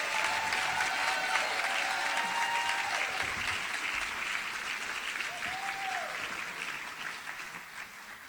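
An audience claps for a school's Teacher of the Year at a district awards ceremony, a sustained wash of applause that stays full before slowly tapering, with occasional faint voices and cheers underneath.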